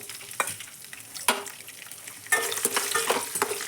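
Cumin, mustard seeds, urad dal and chana dal sizzle steadily in hot oil while being stirred, with sharp scraping clatters of the spoon against the pan recurring over a continuous frying hiss that grows louder partway through.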